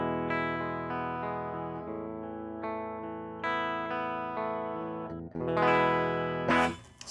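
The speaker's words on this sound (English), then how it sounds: "So this is just a dry, direct signal of the guitar into Logic." A clean, unprocessed electric guitar, recorded as a dry direct signal, plays a few sustained notes and chords, ringing plainly without effects, ending with a brief burst of noise.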